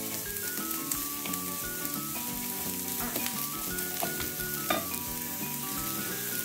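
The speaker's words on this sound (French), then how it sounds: "je vais faire revenir tout simplement les échalotes sans brûler" Shallots frying in oil in a pan, cooked for pommes sautées aux lardons: a steady, close sizzle runs throughout with occasional scraping stirs, while a faint musical tone plays underneath.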